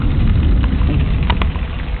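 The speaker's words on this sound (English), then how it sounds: "The road is just getting pelleted by rain," A severe thunderstorm in Camrose, Alberta, with heavy rain and hail pelting a road. It makes a loud, steady, dense roar with scattered sharp impacts and no voices.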